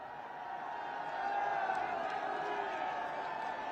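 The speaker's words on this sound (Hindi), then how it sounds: "आप अपने उद्घोष, जय घोष और तालियों से उनका स्वागत करेंगे" A large crowd at the Jewar/Noida International Airport event cheers and claps to welcome Prime Minister Modi, a fairly faint, distant wash of crowd noise that swells slightly midway and holds steady.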